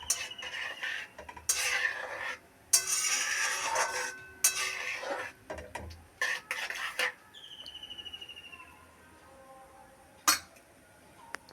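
A spoon stirs vermicelli in milk in a pot on the stove, making bursts of scraping and clinking metal against the pot that come in irregular strokes, with a brief pause and some faint kitchen clatter.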